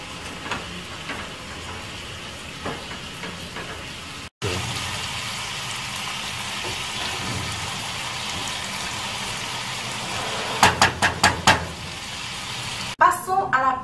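Rice cooks in plain boiling water with no fat or salt, a steady bubbling sizzle with a few clinks and brief handling noises, and some speech nearby.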